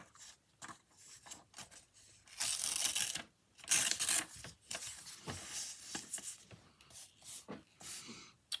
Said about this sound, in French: j'ai plus de mal à déchirer ce beau papier